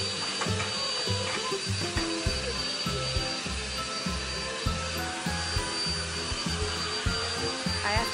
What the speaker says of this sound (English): So I'm just gonna vacuum it up.